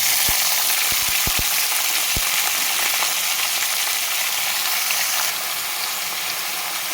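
Brinjal pieces with cumin and curry leaves frying in a pan give a loud, steady sizzle throughout, with a few sharp low knocks near the start.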